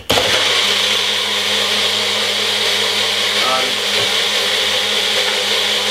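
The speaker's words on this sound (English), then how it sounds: "we're going to be blending this now" A blender whirs continuously at high speed, loud and close, blending a bedtime juice drink with fresh ginger and lemon, a steady dense roar with a slight pitch shift midway.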